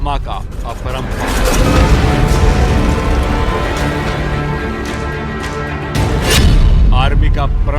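Heavy booming artillery blasts roll continuously, a dense low rumble with a burst of louder explosions near the end, loud and sustained.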